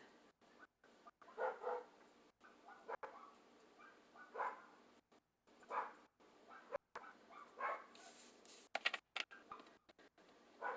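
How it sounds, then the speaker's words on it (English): Several short barks from a dog at moderate distance, scattered in bursts with pauses between them. "So much barking going on."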